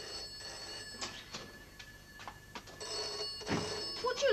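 A telephone bell rings in a sitcom home setting, coming in short repeated bursts at moderate distance over quiet room tone, with no one speaking.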